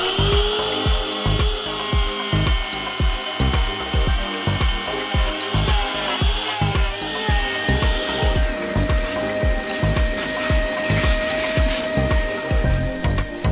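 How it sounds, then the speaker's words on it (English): A router cuts a motor pocket into a wooden baseboard, giving a close, steady whine over rhythmic rasping pulses as the bit repeatedly bites into the wood. "and then lots and lots of routing."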